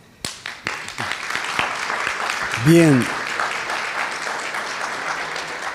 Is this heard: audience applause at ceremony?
yes